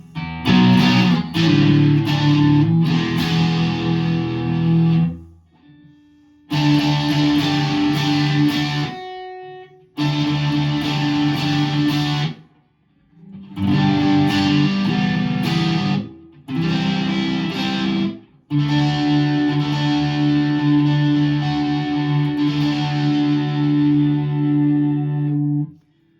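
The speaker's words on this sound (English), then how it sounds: "Now let's put a little crunch tone on and see how we do here." Electric guitar with single-coil pickups and a gritty crunch distortion, strummed chords in several bursts separated by short pauses, loud and close.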